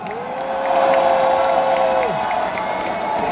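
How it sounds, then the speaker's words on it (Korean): A crowd at a Gwangju–Jeonnam Democratic Party convention applauds in honor of President Kim Dae-jung, a loud, sustained mass of clapping and cheering. A held tone rings through the middle, and voices rise within the noise. "박수 한번 보내주시기 바랍니다"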